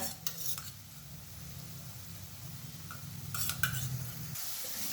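Ginger garlic paste fries with browned onions in a pan for matar paneer, a low, quiet sizzle. A few scraping clatters of a spoon against the pan come in short bursts, with no talk.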